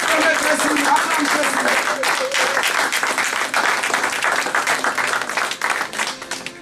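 A church congregation applauds Jesus in loud, sustained clapping that fills the room, with voices calling out over it and the applause slowly thinning toward the end.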